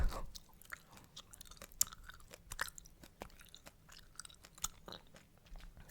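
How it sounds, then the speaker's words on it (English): Cherry menthol chewing gum is chewed with an open mouth close to the microphone, giving steady wet smacks and clicks in an irregular rhythm, with no talking. "I don't usually chew chewing gum with my mouth open. This is solely for the ASMR video."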